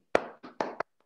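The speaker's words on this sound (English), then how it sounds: "Let's clap" A few scattered hand claps come from a small academic audience after a mathematics lecture on p-adic automorphic forms. There are four brief, close claps with short gaps, then silence.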